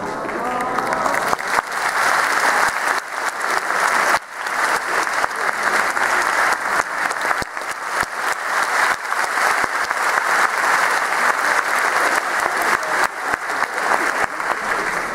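Audience applause fills the hall at Sagan Tosu's 2015 new-squad presentation event, a dense, loud, sustained clapping that holds steady throughout.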